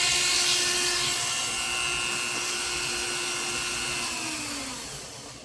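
Dremel rotary tool whining at high speed during a GMT800 column shifter spring repair, a loud steady tonal buzz close by that winds down in pitch as it spins off at the end.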